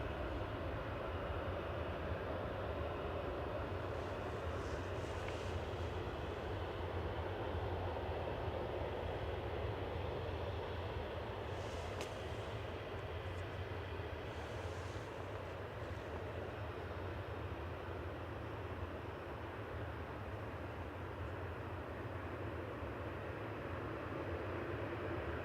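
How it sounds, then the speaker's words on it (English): An Aer Lingus UK Airbus A330-300 arriving at Manchester Airport from New York JFK, heard as a steady, continuous broadband jet roar that holds at a constant level throughout, with no talk. "Next in is Aer Lingus UK with flight 44 from JFK in New York, A330-300 G Isla."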